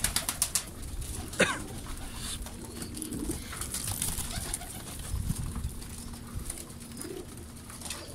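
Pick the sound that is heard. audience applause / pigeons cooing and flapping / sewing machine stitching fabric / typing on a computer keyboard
pigeons cooing and flapping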